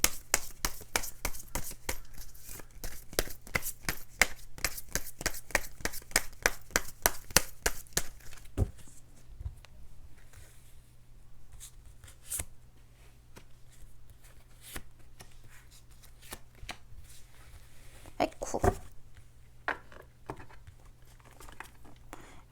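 Tarot cards are shuffled at close range in a fast run of crisp riffling snaps, then pause and are drawn and laid down with scattered softer flicks and taps on a small desk, with no talk.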